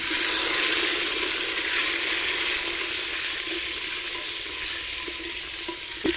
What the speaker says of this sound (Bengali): সুন্দরভাবে হালকাভাবে ভেজে নেব।